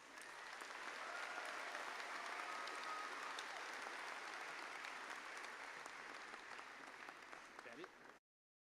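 A crowd at a 2018 MBA graduation ceremony applauds the graduates, with sustained even clapping filling a large hall for several seconds before it cuts off.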